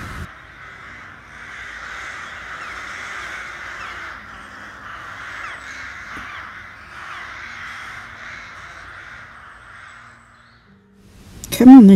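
A large group of crows caws continuously, a loud, harsh chorus of overlapping calls that holds for about ten seconds before fading, outdoors in a garden.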